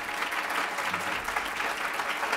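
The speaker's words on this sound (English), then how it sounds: "Please, let's give him a round of applause for his work." A room full of people clapping steadily, dense and even applause throughout without talking.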